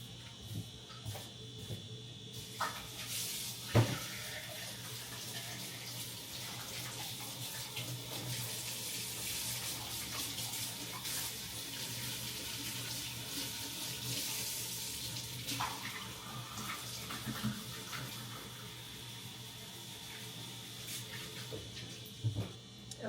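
Tap water runs steadily into a bowl being soaked in a kitchen sink, a quiet continuous splashing hiss with a few small clinks.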